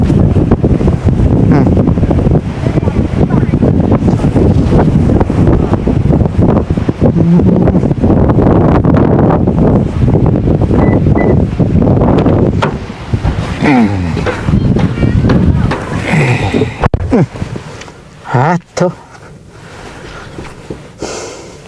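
Strong wind buffets an outdoor microphone at a Thai village house-building site where concrete blocks are being laid, a loud continuous roar that eases and gusts unevenly toward the end, with a voice talking faintly underneath.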